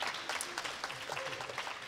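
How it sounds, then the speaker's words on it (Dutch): An audience thanks guest speakers at a university science talk on filter bubbles and algorithms with a round of applause, a moderately loud, steady clatter of hands with faint murmuring underneath. "Ik wil nog één keer onze gasten bedanken met een applaus."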